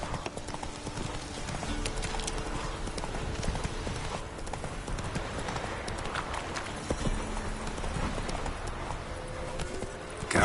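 In The Witcher 3, the horse Roach trots along with a quick, regular clip-clop of hooves, near and clear over faint outdoor game ambience.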